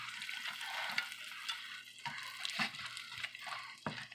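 Butter and salt are stirred into hot caramel in a pan, producing a quiet bubbling hiss with repeated soft scraping strokes and a few light clicks of the utensil.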